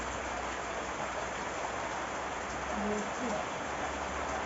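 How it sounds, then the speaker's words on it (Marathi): Steady, dense rain hisses throughout, a continuous heavy downpour with faint indistinct sounds underneath. "आणि बेकार पाऊस पडतोय"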